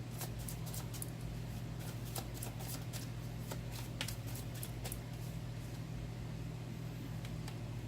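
Tarot cards shuffled and drawn during a card reading, with repeated soft crisp card flicks over a steady low electrical hum, close and fairly quiet, with no talking.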